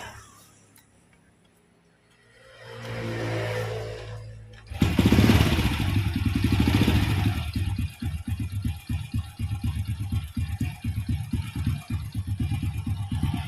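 A motorcycle engine with a rough-running fault cranks briefly, fires up with a burst, then settles into a steady, slightly uneven idle close by.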